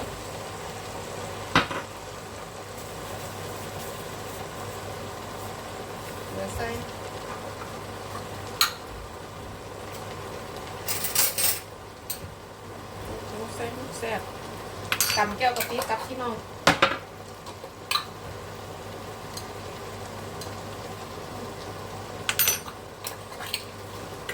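Vegetables stir-fried with oyster sauce in a pan give scattered clinks and scrapes of utensil on metal, with a few louder clatters, over a faint steady background and no talk.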